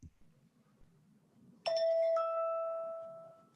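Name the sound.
chime sound played during a presentation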